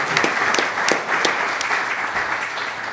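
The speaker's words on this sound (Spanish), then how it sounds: "Un aplauso, por favor, para Arturo Cuellar González." An audience applauds an introduced panelist at a genealogy panel, a short burst of many hands clapping with a few sharper nearby claps standing out, steady throughout.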